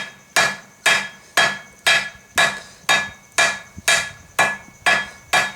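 Hammer blows forging a steel bar down to a taper for a drive hook, about ten loud, sharp ringing strikes at a steady, roughly half-second rhythm, close up with no talking.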